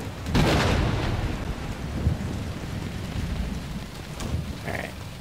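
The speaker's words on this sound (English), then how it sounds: "It's raining." Rain falls in the Division 2 video game, a loud, continuous wash of hiss and patter with a heavy rumbling burst near the start, playing on its own with no voices.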